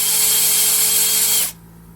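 A power drill spins out a screw on a Redcat Valkyrie RC truck, a loud steady whine lasting about a second and a half before cutting off abruptly into quiet.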